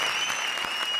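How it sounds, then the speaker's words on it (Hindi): Audience applause at a comedy show qawwali performance: a dense, loud burst of clapping from a studio crowd, with a sustained musical tone running underneath. "जोरदार तालियां"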